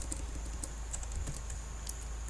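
Computer keyboard typing: a quick series of sharp clicks in an uneven rhythm, close and fairly quiet over a low steady hum, with no talk.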